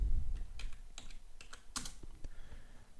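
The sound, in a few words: typing on computer keyboard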